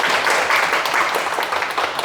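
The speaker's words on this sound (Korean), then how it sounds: "박수 한번 해주세요." Audience applause in a hall: dense, steady clapping from a crowd that fills the whole short stretch at an even level, with no voices over it.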